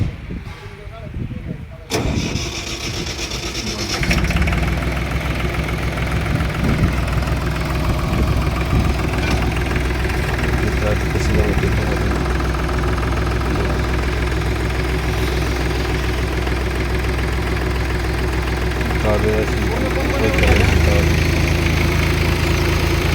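A tractor engine starts after a couple of seconds and settles into a steady, loud mid-to-low running drone, driving the hydraulic pump that raises a loaded trolley, with a slight surge near the end and a voice talking over it.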